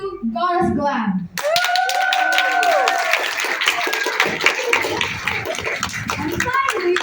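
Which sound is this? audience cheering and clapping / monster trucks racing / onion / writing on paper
audience cheering and clapping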